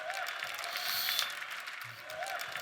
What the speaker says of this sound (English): you can clap for that, that's pretty amazing.